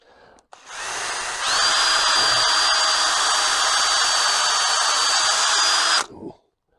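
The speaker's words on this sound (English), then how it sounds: "I just square this timber up and I'll drill this" A power drill whines steadily into timber for several seconds at close range, holding a constant pitch before cutting off abruptly.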